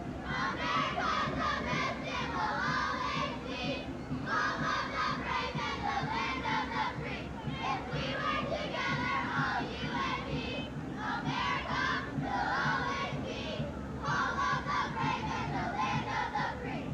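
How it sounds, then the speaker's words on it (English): Parade crowd at a Memorial Day parade lets out a sustained group cheer, dense shouting voices continuing steadily from start to end at a moderate distance. "A cheer for America"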